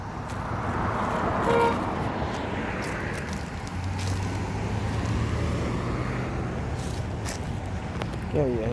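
Southern street traffic with trucks and cars rolls by in a constant moderate roar, with a short horn toot and nearby footsteps mixed in.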